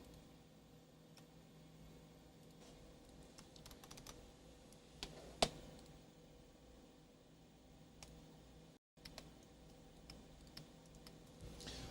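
Keys clatter on a Data General Dasher terminal keyboard, a close, steady run of small clicks with one sharper spacebar-like clack near the middle and a brief dropout before the typing resumes.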